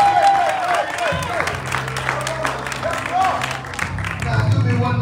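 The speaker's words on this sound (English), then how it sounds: "Give God the greatest hand clap that you can give." Audience clapping at a live gospel concert in Memphis, Tennessee, a dense, steady patter of many hands with crowd voices and chatter mixed in throughout.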